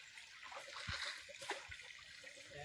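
Water trickles and splashes into a well during cleaning, a faint continuous hiss with a few soft drips and splashes, close by, with no voices.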